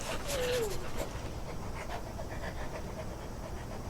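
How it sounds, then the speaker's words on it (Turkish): A guard dog in Hello Neighbor 2 pants in quick, breathy rhythmic puffs over a steady game background hum, with a brief whine near the start. "Çünkü nöbet tutuyor bu köpek burada."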